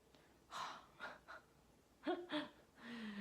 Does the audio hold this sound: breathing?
yes